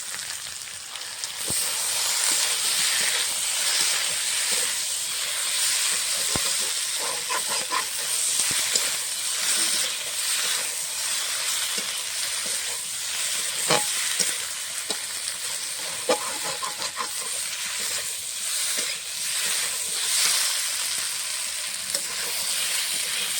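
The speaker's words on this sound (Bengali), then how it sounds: "মশলাটা দিয়ে একটু ভালো করে কষিয়ে নিয়েছি" Spice paste of ground coriander and Kashmiri chilli powder frying in a pan for a jackfruit and chana dal curry, a steady close sizzle with occasional scraping stirs and small pops throughout, no voices.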